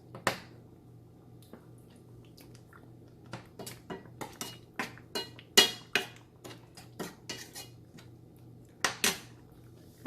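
A spoon stirs sweet mango curry in a pan, making a series of sharp metallic clinks and scrapes at an irregular pace, close and fairly loud against a quiet background.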